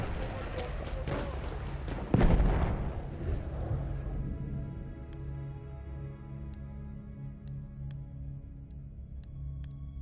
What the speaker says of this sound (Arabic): إنني ألقي قنبلة، انتبهوا.